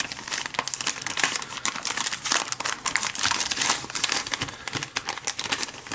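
A plastic bag wrapped around an X-Wing miniatures reinforcement pack holding cardboard punchboards and cards crinkles and rustles continuously up close, with dense irregular crackles and no talking.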